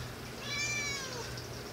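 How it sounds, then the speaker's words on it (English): A cat gives a single drawn-out, rising-then-falling meow against a steady background hiss, clear but not loud. "Listen to this goddamn cat."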